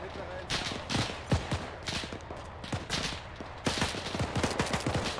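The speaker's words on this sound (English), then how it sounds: "Oh, I'm taking some fire off to the left." Enemy Soviet gunfire in the WWII game Arma 3, sharp shots scattered through the clip in irregular bursts, some loud and close, others further off, with a denser volley near the end.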